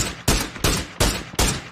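Four evenly spaced gunshots ring out in a PUBG match, loud and sharp with short decays, each roughly a third of a second apart, with no talk over them.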